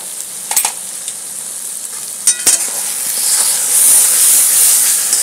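Masala for gule fish curry sautés in a pan, a loud, steady sizzle and hiss with brief stirring scrapes near the start, growing slightly stronger toward the end, with no voices.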